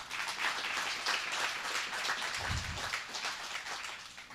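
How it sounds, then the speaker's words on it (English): An audience at the 2024 Outride Summit applauds the Riding for Focus champions with a dense, sustained patter of many hands clapping, fairly faint and distant, and a brief low thump partway through. "big round of applause again for all of you"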